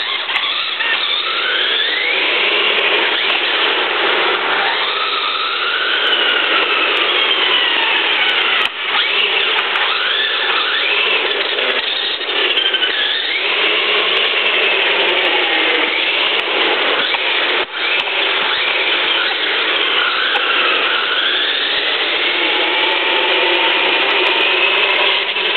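A radio control car spins donuts on a polished mall floor, giving a continuous loud, whining motor with rising and falling pitch sweeps and tire squeals, close and unbroken throughout.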